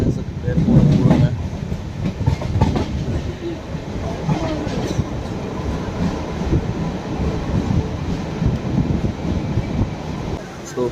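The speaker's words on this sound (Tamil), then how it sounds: "ஸோ சிவகாசி ஸ்டேஷன்லேருந்து ட்ரெயின் வந்து டிபார்ட் ஆகிடுச்சு." The Pothigai Superfast Express pulls away from Sivakasi station, a rolling train rumble with clickety-clack rail beats and wind buffeting, heard from on board with voices talking over it.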